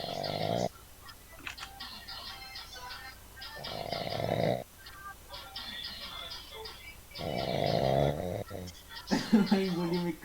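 A person snores loudly and close, in three long rasping breaths spaced a few seconds apart, with talking and chatter in between.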